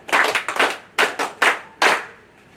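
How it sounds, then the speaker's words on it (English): A small group of people clap in several short, uneven bursts, close and fairly loud, each burst fading quickly before the next. "Please, let's give them a round of applause."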